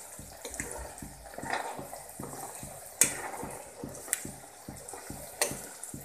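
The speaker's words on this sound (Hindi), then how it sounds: "मिक्स करेंगे।" Fenugreek with turmeric powder being stirred in a pan, soft scraping and sizzling strokes with a few sharp clinks of the spoon against the metal, fairly quiet and steady throughout.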